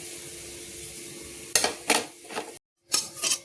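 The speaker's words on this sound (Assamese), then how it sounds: "এতিয়া দি অলপ চিৱৈখিনি ভাজি ল'ম" Vermicelli frying in ghee in a karahi: soft sizzle under a few sharp scrapes and stirring clatters of a utensil against the pan, then a brief silence and more stirring.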